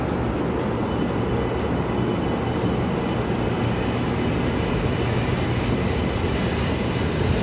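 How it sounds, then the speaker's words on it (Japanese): A Shinkansen 700 series Rail Star train departs the station with a loud, continuous rumble of motors and wheels that fills the whole stretch. "この新幹線 レールスター700系新幹線を見送りしてですね"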